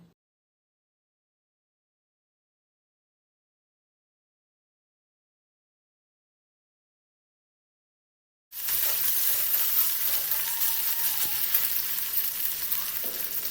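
Onions fry with bay leaf pieces, ginger-garlic paste and chili paste for a chicken liver and gizzard dish. Several seconds of silence end in a sudden, loud, continuous close sizzle with faint stirring.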